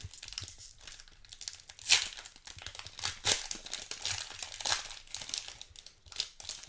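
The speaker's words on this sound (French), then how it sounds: "On va ouvrir le petit Magic d'abord." A Magic: The Gathering booster pack being torn open, close and quiet, with bursts of crinkling foil wrapper and sharp tearing that come in uneven clusters, no talk.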